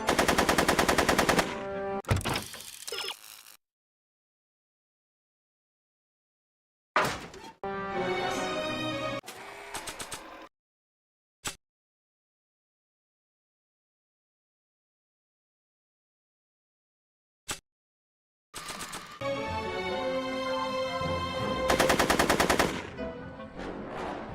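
Gunfire in Back to the Future: The Game on Xbox Series X|S, loud sustained bursts of rapid automatic shots broken by long silences and two isolated single cracks.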